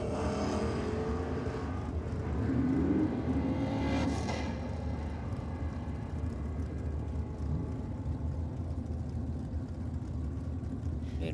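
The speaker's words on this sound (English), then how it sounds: "Andrew Barbara from Holsworthy, small box Chev powered FE Holden." A small-block Chevy powered FE Holden drag car roars at a dragstrip, its engine loud and rumbling as it passes at a distance, with the sound swelling early and then settling into a steady drone.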